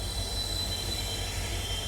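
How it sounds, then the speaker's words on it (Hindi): Passenger express train on a Delhi to Jodhpur run, heard from aboard as it slows on the track, with a steady rolling rumble and faint high wheel squeal running continuously and evenly, no voices. "एकदम से स्लो डाउन हुई है भाई ट्रेन"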